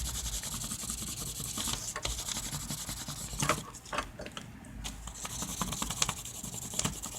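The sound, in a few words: pencil rubbing over a textured art rubbing plate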